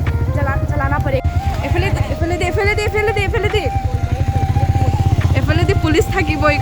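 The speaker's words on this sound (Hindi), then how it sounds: "गाड़ी मतलब पहली बार मैं चला रही हूँ टाउन के अंदर मेरा सुपर बाइक को" A superbike ridden through town streets, its engine putting out a steady low, rhythmic throb that stays close and loud throughout, with someone talking over it.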